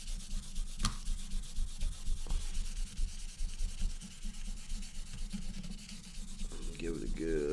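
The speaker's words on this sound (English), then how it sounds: "Take my sandpaper." Sandpaper rubs back and forth over the contacts of a Nintendo game cartridge, a steady close-up scratchy rasping that continues for several seconds before a brief clatter at the end.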